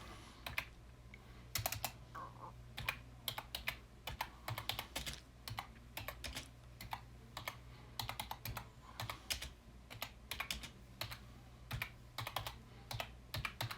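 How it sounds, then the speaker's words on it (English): Rapid typing on a computer keyboard, close and clear, with quick bursts of keystrokes separated by short pauses throughout, no voices. "And I'll type in"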